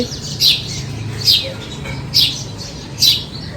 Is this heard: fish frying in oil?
no